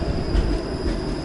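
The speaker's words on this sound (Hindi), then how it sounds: "ये देखें यहाँ की ट्राम" A downtown Toronto streetcar passes close by, a loud continuous rumble of wheels on rails with a steady high squeal riding over it.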